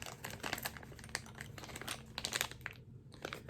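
A plastic bag crinkles and rustles close by in quiet, busy, irregular bursts, with a brief pause before the crackling resumes; no talking.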